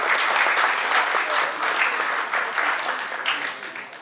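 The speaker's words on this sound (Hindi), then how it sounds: "तालियां बजती रहे तो इनका हौसला अफजाई होगा" Audience applause after a ballet performance of Shakuntalam, steady dense clapping from a crowd that holds throughout, then tapers slightly toward the end.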